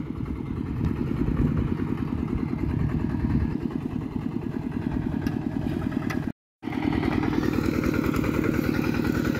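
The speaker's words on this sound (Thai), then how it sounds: "รถไถนาเดินตาม" A walk-behind tractor ploughs a rice field, its engine a loud, steady chugging clatter that runs without a break, apart from one brief gap, with no voices over it.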